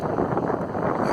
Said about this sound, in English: so windy, I know